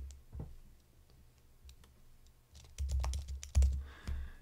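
Computer keyboard typing while database username, password and name are entered, heard as quiet scattered keystrokes at first, then a denser burst of louder clicks near the end.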